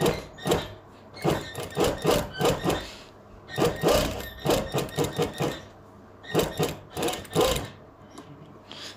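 A sewing machine stitches a Punjabi shirt collar in short, rapid bursts of mechanical clatter, stopping and starting several times with brief pauses between runs.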